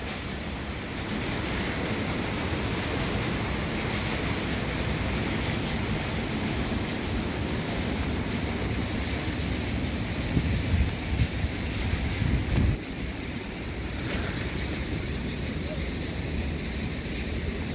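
Strong water flow at a village well in Sârbi, Maramureș, a steady loud rushing wash that holds throughout, with a brief heavier surge near the middle.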